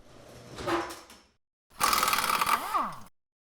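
A rotary tool cuts out the lip of an LS3 intake manifold for a 102mm throttle body, whining in two close, loud bursts with a short pause between, pitch sliding as it bites into the metal.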